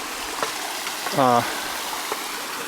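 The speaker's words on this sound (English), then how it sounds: "Wow, this was kind of a wide creek crossing." A wide creek at a trail crossing on the Riprap Trail in Shenandoah National Park makes a soft, steady rushing hiss. A person speaks briefly over it.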